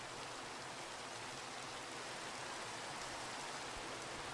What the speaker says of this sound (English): Constantly needing to make this rain go away.